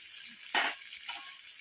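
Ground green chili, cumin and coriander paste frying in a pan, a brief hissing sizzle that swells once and fades against a quiet kitchen background.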